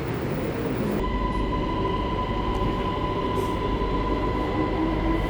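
A train crossing a bridge over the Chao Phraya River rumbles steadily from inside, a loud continuous roar of wheels with a sustained metallic hum and faint clanks, unchanging throughout.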